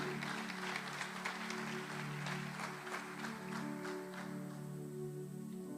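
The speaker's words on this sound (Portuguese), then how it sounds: "Aplauda ao Senhor." A church congregation applauds during a service, producing a soft, sustained patter of clapping over a steady low organ or keyboard drone, moderately distant and tapering off toward the end.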